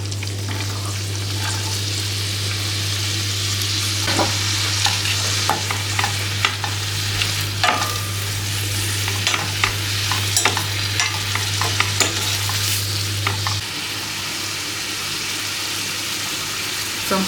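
Carrots with ginger frying in a pan, a continuous sizzle with scraping stirs and clinks from a utensil, alone under a steady low hum that cuts out near the end.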